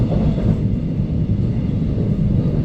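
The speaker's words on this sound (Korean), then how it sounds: "열차는 어느새 영수철교 위를 지나가는데요." Gyeongui-Jungang Line commuter train crossing a steel railway bridge over a river, heard from on board as a steady, loud low rumble with continuous rolling noise and no voices.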